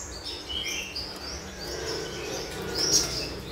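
A black-headed sunbird kept as a caged pet gives faint, high chirps over a steady low background hum while feeding on a cricket, the calls scattered and brief.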